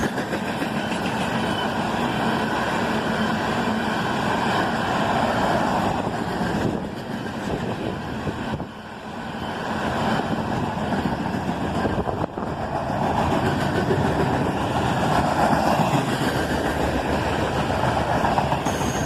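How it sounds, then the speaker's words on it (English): A CSX freight train of empty steel slab cars rolls past nearby, a loud steady rumble of wheels and clattering wagons that dips briefly midway before continuing, with no voices. "here's the daily empty steel slab cars heading north"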